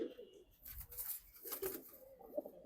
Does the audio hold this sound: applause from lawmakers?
no